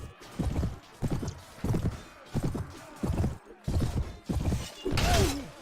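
Regular hoofbeats of a warhorse in a medieval battle video game, evenly spaced heavy thuds about once per second close up, ending with a brief whinny.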